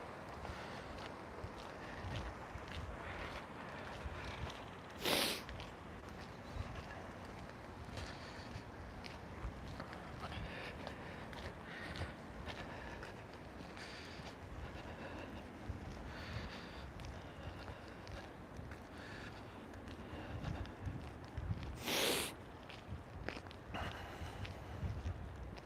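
Wind gusts across an open outdoor spot, a low continuous rushing buffet with a few sharp bursts of microphone noise, faint overall and with no voices.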